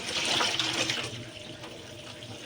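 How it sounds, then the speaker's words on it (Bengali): Running water splashes over fresh taro leaves being rinsed one by one, a close, bright gush that is strongest at first and then settles into a softer trickle. "আমি একটা একটা করে ধুইয়া এখানে রাখতেছি কচু পাতাগুলো ধুইতেছি"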